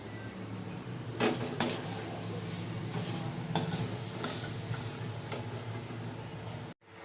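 Mung dal frying in a pan while being stirred, with a steady close sizzle broken by several sharp scrapes and clinks of a utensil against metal, ending in a brief cutoff.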